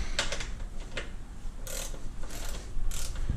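Bolts being tightened on a Harley Street Glide, quick ratchet clicks in short bursts with a few brief pauses, close and clear, no talking.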